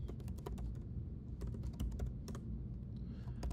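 A command is typed on a computer keyboard in quick, uneven bursts of close, crisp key clicks with short pauses between them.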